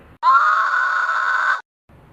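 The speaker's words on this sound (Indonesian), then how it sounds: "Hari berteriak keras dan mencoba berlari keluar dari kamarnya." A man screams loudly in fright in his boarding-house room: one sustained, piercing cry lasting over a second, close and alone, ending abruptly into silence.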